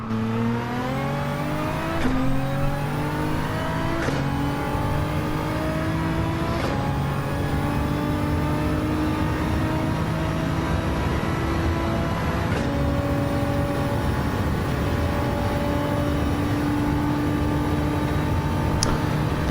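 Race cars at Bathurst circuit, engines droning loudly with rising pitch through each gear and sharp upshift breaks every few seconds, one car accelerating steadily with no talk over it.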